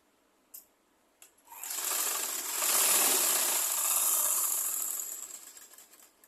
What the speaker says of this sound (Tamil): கரையும் இப்போ தான் தைக்க போகிறோம்.